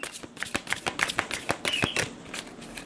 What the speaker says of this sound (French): on va prendre 2 cartes du tarot pour compléter